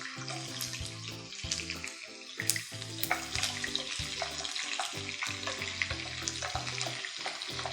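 Chopped onions sizzle and crackle in hot oil for a village-style fish gravy, with stirring clatter and a brief louder burst of frying partway through.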